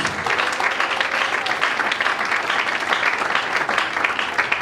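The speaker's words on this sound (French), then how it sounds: "Acclamons très fort pour le Seigneur." A church congregation applauds and cheers for the Lord during worship, dense steady clapping mixed with shouts filling the room for several seconds at close range.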